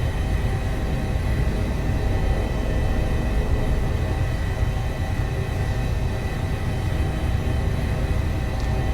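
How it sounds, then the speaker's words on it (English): Steady rotor and turbine drone of a simulated helicopter flying among Alpine huts and helipads around Chamonix, continuous and loud with a deep rumbling low end. "It is so good to be flying helicopters."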